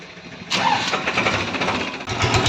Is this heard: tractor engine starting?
yes